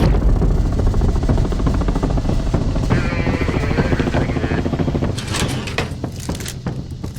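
A helicopter airlifting an injured man in Kent, with a loud, close rotor thump and turbine roar filling the whole stretch, slightly easing toward the end.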